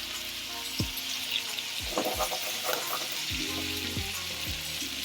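Steak for a Prego sandwich sizzles hard in butter in a pan, a steady loud crackle and hiss throughout, with a few low thumps and scrapes as the meat is moved.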